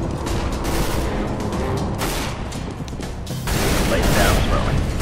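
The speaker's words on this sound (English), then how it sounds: "Throwing flashbang." A flashbang goes off in a Counter-Strike GO match amid a dense stream of game noise: gunfire, clatter and blasts, loud and continuous, with the level swelling near the end.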